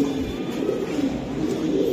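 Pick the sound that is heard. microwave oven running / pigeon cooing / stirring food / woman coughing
pigeon cooing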